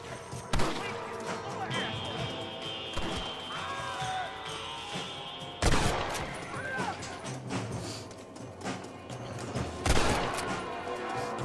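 Gunfire in the Western video game Red Dead Redemption: a dense, continuous volley of shots and crashing impacts with sharp loud bursts throughout, under excited speech and a steady game soundtrack.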